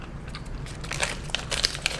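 Biting into a crispy, crunchy maple snack, a few close crackly crunches over a quiet background, with sharper snaps toward the end.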